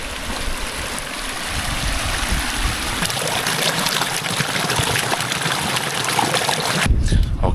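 A mountain stream on the Tibetan Plateau rushes and trickles steadily and close by as drinking water is collected, a loud continuous splashing wash that cuts off abruptly near the end.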